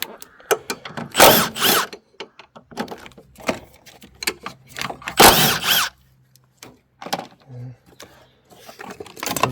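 Bolts being loosened with a ratchet on a 2012 Seat Altea, with short bursts of close, loud clicking and rattling separated by pauses, and brief tool knocks in between.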